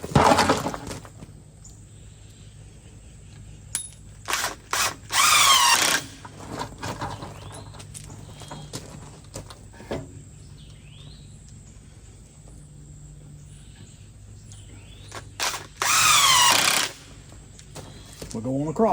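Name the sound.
impact driver driving screws into wooden nesting box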